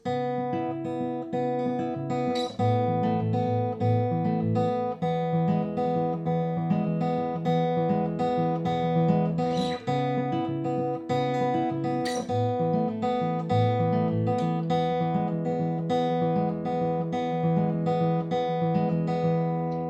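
Acoustic guitar fingerpicking plays continuously, the thumb alternating between bass notes beneath a steady, flowing pattern of plucked upper strings.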